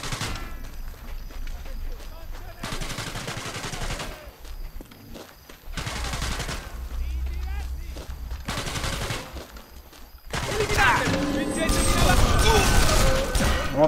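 Gunfire in the video game Sniper Elite 3 comes in several bursts of repeated shots separated by short gaps, with a louder, denser clash of noise near the end, under ongoing talk.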